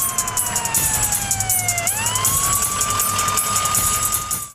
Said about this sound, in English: And then comes the ambulance.